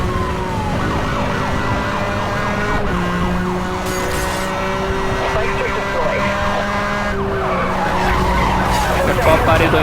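In the racing game Need for Speed Hot Pursuit Remastered, a police siren wails continuously amid loud engine roar and tire skids during a high-speed chase, with talk over the game sound.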